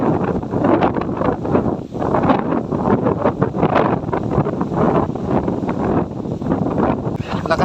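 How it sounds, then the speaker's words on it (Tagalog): Strong wind gusting by the sea near a recently repaired boat, a loud, continuous roar and buffeting across the microphone with no break. "Lakas pa ng hangin guys"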